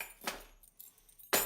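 A bunch of keys pulled from a junk drawer jingles and clinks in two short bursts, close and fairly quiet, separated by near silence.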